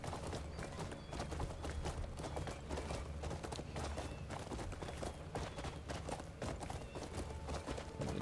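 Horse hooves gallop in Crimson Desert, a fast, steady clip-clop that runs continuously under a soft game background, with no talking.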